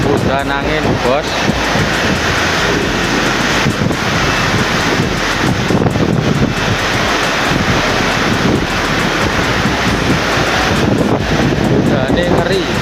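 Strong storm wind buffets the microphone in Jakarta with continuous loud roaring gusts over rain, while a person speaks under the noise.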